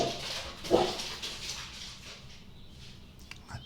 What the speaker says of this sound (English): Just a dog in a hurry to get outside of the house